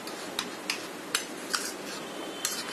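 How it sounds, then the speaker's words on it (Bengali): A spoon clinks against a bowl while mixing a marinade with egg, five or six light metallic taps at uneven intervals over a soft scraping bed, close and alone. "এখন একটু একটা চামচ দিয়ে মেখে নিচ্ছি।"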